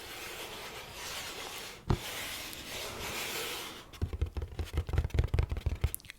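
Cardboard sneaker box rubbed gently by hand, a soft continuous scratchy brushing that fills the first few seconds, then gives way to a run of closer, louder rhythmic scraping strokes, with no talking.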